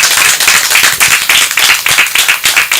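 An audience claps at a public launch event for chimpanzee census findings, loud, close rhythmic hand claps in quick steady succession throughout.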